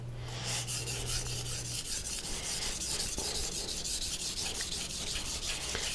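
A knife blade being sharpened on a JNS 1000-grit synthetic whetstone, giving a steady, smooth rhythmic rasping and scraping of repeated strokes, close and continuous with no talking.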